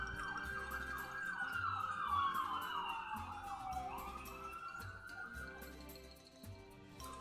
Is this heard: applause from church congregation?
no